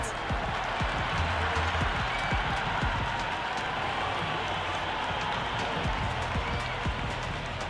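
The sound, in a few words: stadium crowd cheering and applauding a six in cricket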